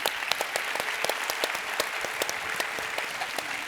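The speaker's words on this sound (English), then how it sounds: "So, man, a round of applause to you," An assembly audience at a community DEI summit claps in steady, dense applause that continues throughout, moderately loud with a few sharper individual claps standing out.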